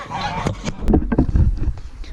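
A domestic goose gives a short burst of loud, close honking, several harsh calls in quick succession with some background noise and no speech.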